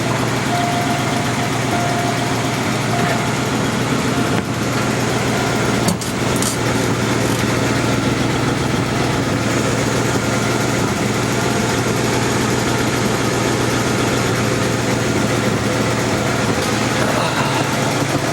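Vintage Glendora engine #10751–10754 idling steadily after a start, a continuous low rumble with a faint higher whine running evenly throughout, no talk over it.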